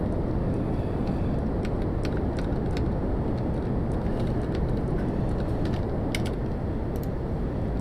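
A spaceplane engine in the video game Kerbal Space Program roars as a steady, dense rumble that holds at an even level throughout, with faint clicks over it and no talking.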